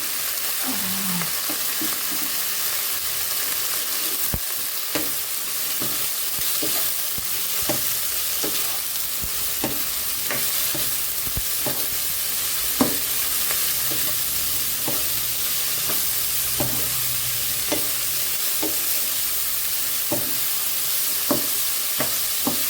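Broccoli lightly frying with turmeric and cumin powder in a pan, a steady close sizzle broken by regular scrapes and clicks of a spoon stirring, no voices.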